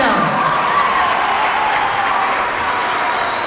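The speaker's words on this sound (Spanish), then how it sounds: "Aplausos para la Virgen María." Church congregation applauding and cheering for the Virgin Mary during a Catholic teaching session, a dense steady wash of clapping with some shouts, loud and continuous throughout.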